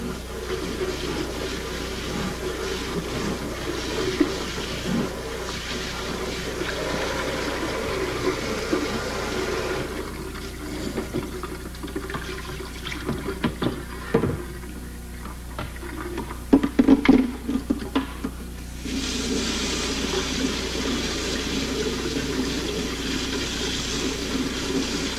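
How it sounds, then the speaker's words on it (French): Hot tap water runs from a faucet to rinse detergent off beer-brewing equipment, a continuous splashing rush that briefly thins mid-way with a few clunks before resuming at full strength. "vous devez rincer à l'eau chaude du robinet pour vous assurer qu'aucune trace de détergent ne subsiste"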